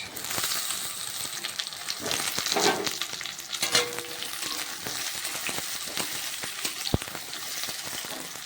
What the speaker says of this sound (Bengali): আমি আলুগুলো এবার দিয়ে দেবো একসাথে ভাজবো আলু আর পেঁয়াজ